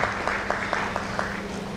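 Scattered clapping at an award ceremony, a handful of sharp claps landing in a loose, regular rhythm over a low steady hum in the hall.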